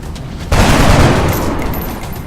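A gunshot in the video game X-Com bursts in abruptly after a half-second of quiet, then a loud, dense rumbling blast that holds steady and tails off slowly.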